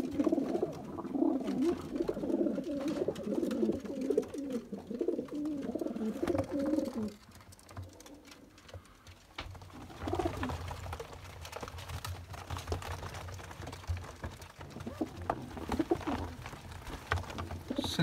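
Pigeons coo in soft, repeated throaty phrases for about seven seconds, fairly close and moderately loud, then fade to quieter, scattered coos and light background clatter.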